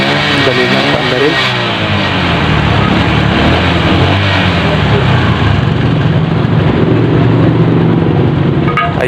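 A Yamaha Sniper motorcycle that had been misfiring and lacking power, started after repair and run loud and close, its engine revving in a dense continuous roar with rising and falling pitch through the whole stretch.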